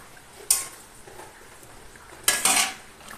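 Fish and prawns cooking in a pan in a home kitchen clatter with two bright metallic scrapes of a utensil stirring against the pan, with a faint sizzle between them.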